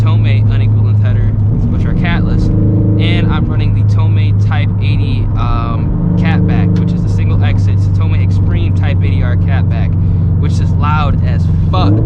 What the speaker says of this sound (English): My exhaust is incredibly loud.